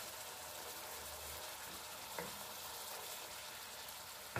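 Mince browns in a pan for spaghetti with a soft, even sizzle that holds steady throughout, broken once by a brief clatter near the middle.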